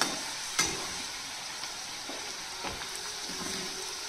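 Bajra methi masala pooris fry in oil in a kadhai while being pressed lightly. A continuous close sizzle and bubbling hiss carries a few sharp spatters and no voices.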